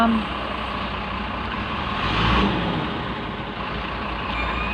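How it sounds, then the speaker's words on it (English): A stationary truck sits idling nearby, its engine producing a steady, dense rumble and hum that barely changes throughout, with faint voices in the background. "He's just a truck. He's not even moving, yet he's making all that noise"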